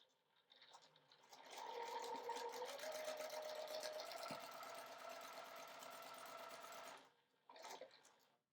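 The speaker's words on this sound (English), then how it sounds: "I'm gonna sew right along those dotted lines through all of these" A sewing machine stitching through quilt papers and charm pack fabric, running in one close, steady mechanical whir for about five seconds, then stopping before a short second burst.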